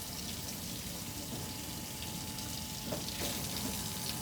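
Water runs steadily from a sink faucet during handwashing, a constant close splashing hiss with small bumps of hands moving under the stream.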